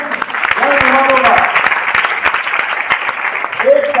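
Audience applause at a leadership training seminar, a dense sustained clapping from a crowd lasting the whole stretch, with a voice briefly speaking over it near the start and end.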